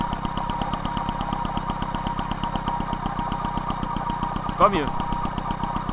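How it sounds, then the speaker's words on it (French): An MBK 51 Magnum moped engine with a 15 PHBG carburetor idles at a steady, rapid putter during carburetor adjustment. It stays loud and close, with a brief voice heard near the end. "on va baisser le ralenti un peu déjà"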